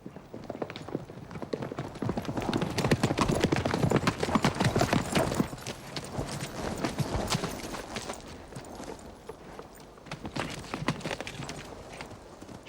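Rhythmic clip-clop of horse hooves on hard ground, close and steady, continuing throughout with a brief uneven stretch.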